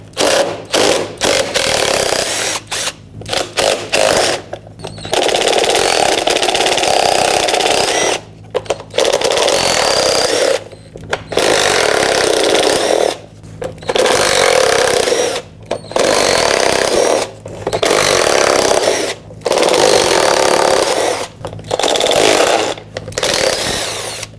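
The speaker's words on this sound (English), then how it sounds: "there are a bunch of 10mm bolts. Remove them all." A loud power tool whirs in repeated bursts, each several seconds long with brief gaps, as 10mm bolts come out along the lower air dam of a 2007-2014 Chevrolet Silverado 2500HD, with no talk.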